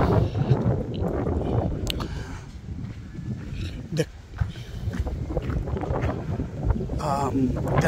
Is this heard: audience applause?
no